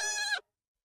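A single sheep bleat from the Palworld video game, loud and close, with wavering harmonic tone lasting under half a second before cutting to silence.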